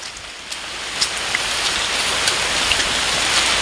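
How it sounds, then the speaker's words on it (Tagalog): Steady rain pours down, a dense, even hiss of drops hitting a surface with occasional louder plinks, continuous throughout. "Umuulan."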